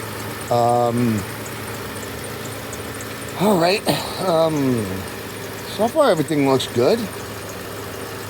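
A 2005 Kia Sedona engine idles under the open hood, a steady low hum running throughout while someone speaks in short bursts over it.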